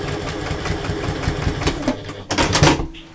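A sewing machine stitches a curved side seam on a belt pouch, its rapid mechanical chatter running steadily and close, then surging louder in a short burst near the end.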